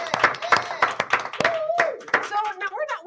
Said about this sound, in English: Oh, we can clap again.